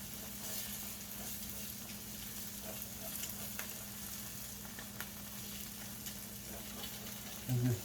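Egg cut into pieces cooking in a pan for breakfast over slightly lowered heat, giving a steady, close sizzle and crackle that runs without a break, with a few soft scrapes near the end.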